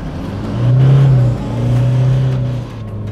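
A car engine revs hard in two long surges driving up a sand dune on tyres lowered to 25 psi, straining loudly up close, with a brief dip between pushes.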